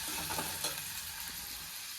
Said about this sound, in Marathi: कांदा आणि टमॅटो भाजून घेणार